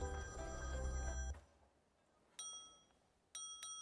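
A telephone bell rings in short bright bursts, two separated rings after a loud musical passage cuts off, clear and fairly close.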